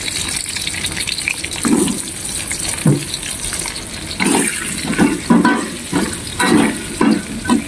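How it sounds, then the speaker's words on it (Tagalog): Onions fry and sizzle in a pan for pickled atsara, the steady hiss broken by repeated clattering stirs of a utensil against the pan, loud and close with no talking. "Next natin na ipa-fry ay yung onions."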